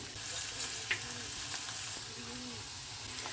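Crushed garlic and green chilli sizzling in hot oil in a pan for methi saag, a steady close hiss and crackle with a few faint clinks, no talking.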